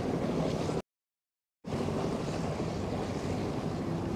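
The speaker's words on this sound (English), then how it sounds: "Try to give you guys some of the water sounds." Water off Governors Island, New York, next to Manhattan: steady broadband wash of waves and wind noise, loud and close, with a brief total dropout near the start before the rush resumes.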